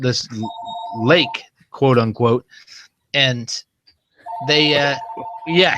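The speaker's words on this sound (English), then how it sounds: "Sorry about the phone. Let me get rid of that." A telephone rings in two electronic bursts, each a steady repeating tone, heard under continuous nearby talking.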